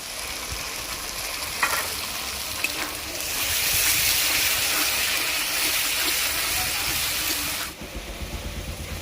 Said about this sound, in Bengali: আদা রসুন পেঁয়াজটা ভালোভাবে ভাজা হয়ে গেছে। এবারে দিয়ে দিব টমেটো বাটা।